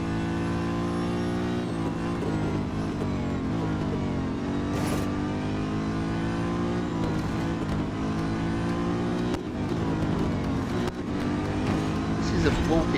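Video game racing car engine in Real Racing 3, a bulky car, droning steadily with shifting pitch throughout, loud and continuous, with occasional faint game effects and a voice speaking intermittently.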